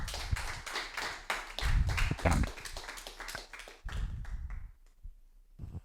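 An audience at a talk claps in a loose, uneven patter of individual hand claps, with some louder low thumps mixed in, thinning out toward the end and fading to a few scattered claps.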